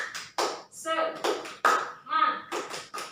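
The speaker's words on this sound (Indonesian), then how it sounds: "Nih, kalau saya bilang tepuk semangat." A group of women in a P2K2/FDS training simulation do the tepuk semangat spirit clap, with short, sharp rhythmic claps bursting between loud chanted voices, close and lively.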